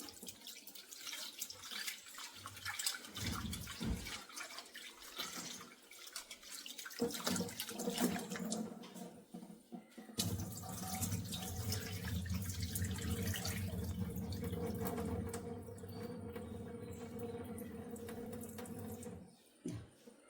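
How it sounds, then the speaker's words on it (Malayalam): Food is rinsed under a running kitchen tap, with steady splashing water filling most of the stretch and a few pauses and shifts as the food is moved under the stream, with no talking. "ഒന്നുകൂടെ കഴുകിയാൽ മതിയാവും"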